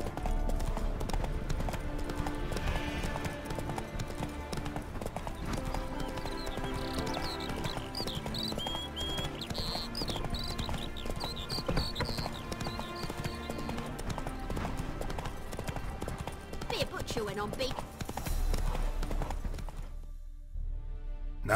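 Roach the horse galloping in The Witcher 3, a steady rapid clip-clop of hooves under music and ambient game sound, ending with a sudden stop and quiet.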